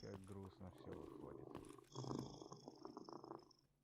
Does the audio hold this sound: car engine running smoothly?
no